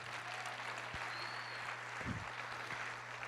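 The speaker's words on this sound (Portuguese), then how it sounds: "Você pode me dar uma salva de palmas para Ele?" A church congregation claps steadily, a dense, even wash of applause sustained throughout, with a few low thumps underneath.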